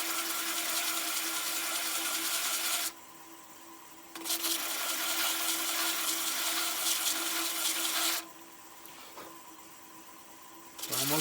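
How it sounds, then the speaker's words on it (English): Basswood is sanded by hand with sandpaper, giving a steady, close, loud rasping hiss in long continuous passes broken by brief quieter pauses, with no talking. "Let the sandpaper kind of do its thing."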